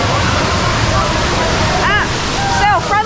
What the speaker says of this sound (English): There's waterfalls everywhere.